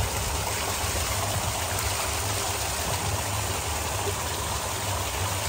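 Glacier meltwater from the mountains rushes through a built channel at a mountain trout farm, a steady, loud, unbroken flowing hiss with no pauses and no voices.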